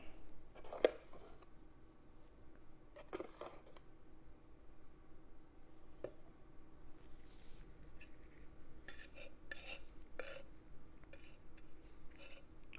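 Homemade oil paint being stirred, heard as soft scraping and occasional light clinks of a tool against a container, close but faint against a quiet background, with no talking.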